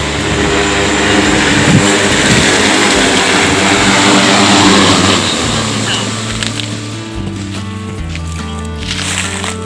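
An agricultural spraying drone flying over a field, its loud, close propeller whine droning steadily and then easing slightly, with a person talking over it.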